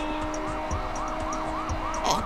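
A police car siren in the video game Sleeping Dogs wails in rapid repeating sweeps over a steady engine drone, fairly loud and continuous throughout.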